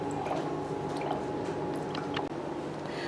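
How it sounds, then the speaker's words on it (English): Water spills from the overflow hole of a BRG50 cryolipolysis machine, a close, steady trickle with wet squishing and dripping that runs continuously without talk. "When the water is full inside, it will come out from the overflow hole."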